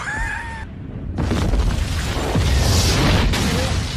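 A high whine cuts to near silence, then a huge rumbling explosion bursts in and roars on, loud and sustained with crackling debris.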